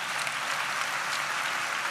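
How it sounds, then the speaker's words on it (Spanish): Steady, dense applause from an audience at a panel discussion on women who help, transform and inspire, a continuous wash of clapping with no pauses over two seconds. "Así que un aplauso porque"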